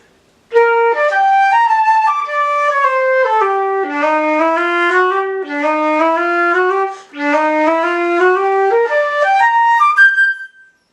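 A solo flute plays a quick melodic passage in uneven long-short rhythms, clear and close, with brief pauses between phrases.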